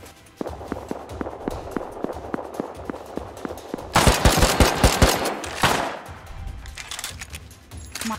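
Rapid bursts of gunfire through bunker windows in a survival PvP combat game, opening with regular single shots over faint footsteps, then a loud dense automatic volley in the middle before settling back to scattered shots.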